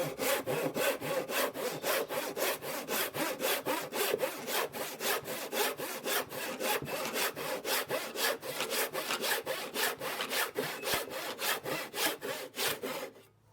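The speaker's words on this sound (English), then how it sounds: "Once we've sharpened both sides of the saw, we can give it a test." A freshly sharpened vintage crosscut handsaw cuts through wood in a steady rhythm of about twenty-five rasping strokes, close and loud, and no one speaks.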